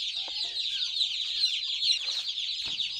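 Several young chicks cheep and cluck constantly at close range, a busy high-pitched chorus with no talking.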